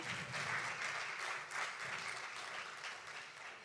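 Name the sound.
audience giving a strong round of applause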